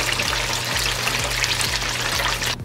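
Chicken wings fry in hot oil with a dense, loud, steady hiss and fine crackling. A faint low rhythmic pulse runs underneath, and the sound cuts off abruptly near the end.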